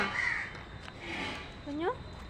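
A crow caws nearby, a few harsh calls spaced out through the clip, with people talking in the background.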